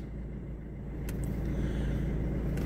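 Low, steady idle rumble of a Mercedes C220 CDI diesel engine, heard close and continuous with a slight rise in level partway through and a couple of faint clicks.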